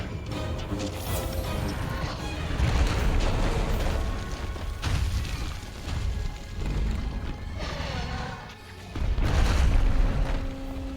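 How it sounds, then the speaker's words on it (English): Bombs going off in Monster Hunter World: repeated heavy booms and crashing impacts layered over dense mechanical game effects, loud and continuous across the scene with no talking. "he's got a lot of bombs everywhere"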